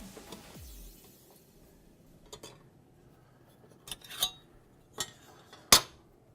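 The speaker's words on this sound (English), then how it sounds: "Just remove these 4 screws, take the drive out." Hard drive being pulled from its mounting bracket inside an Asus ROG Huracan G21 desktop after four screws are removed, heard as a few scattered metallic clicks and clacks against a quiet background, sharpest near the end.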